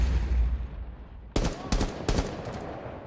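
Gunfire in Rainbow Six Siege: after a quiet moment, three sharp, loud bursts of shots ring out close by in quick succession, with a faint voice under them.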